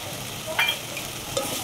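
Soya biryani being stirred and mixed in a frying pan, with a low steady sizzle and a couple of brief scraping strokes of a spoon against the pan.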